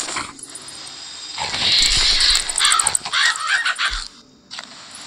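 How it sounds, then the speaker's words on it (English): A vulture cries in the Hungry Dragon video game as a series of harsh, raspy, caw-like squawks over a few seconds, loud and up front against game background noise. "What is that? A vulture?"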